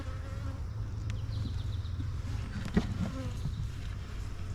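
Honey bees in an opened resource hive give off a steady, dense buzz that fills the whole stretch evenly, close by, with a faint click partway through.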